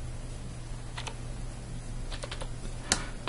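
Keystrokes on a computer keyboard while logging into a Raspberry Pi, heard as a few short clusters of quick clicks at close range over a steady low background hum, ending with one sharper tap.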